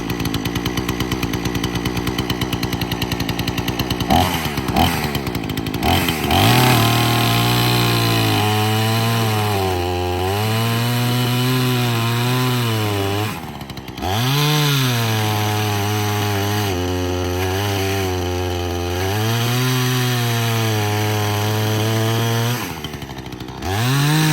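A Craftsman S205 chainsaw engine runs loudly nearby, idling and then revving up and down several times, a buzzing two-stroke whine throughout.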